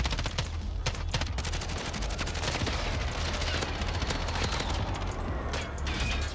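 Rapid, dense gunfire in the Modern Warfare Warzone video game, with loud overlapping automatic bursts and individual cracks rattling almost without pause throughout.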